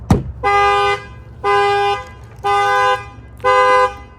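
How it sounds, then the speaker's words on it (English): Chevy Colorado ZR2 alarm set off by its shock sensor, blaring four loud, evenly spaced horn-like tones about half a second each, following a sharp bang at the start. "I'm going to get ahead and bang on the window, and that will set off the alarm"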